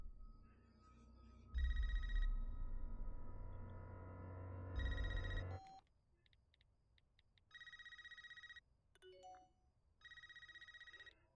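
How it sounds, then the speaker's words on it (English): An old school landline telephone ringing in short repeated bursts, trilling rings separated by pauses, first over a loud low rumble of movie trailer sound and then alone against near silence. "Answer the old school landline."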